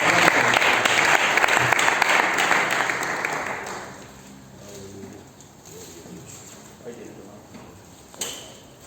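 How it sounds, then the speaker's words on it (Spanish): A church congregation applauds during a Friday evening Bible class, loud dense clapping for about four seconds that fades into scattered claps and room murmur, with a sharp knock near the end. "Fuerte el aplauso que es para Dios."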